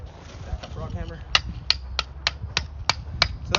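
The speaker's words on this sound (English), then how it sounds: "rock hammer." Rock hammer striking stone pieces while building a crevice garden in a hypertufa trough, a run of about seven sharp, evenly spaced clinks over a soft low background, close and fairly loud.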